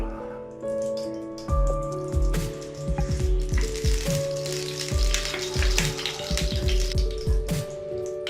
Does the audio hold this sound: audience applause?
no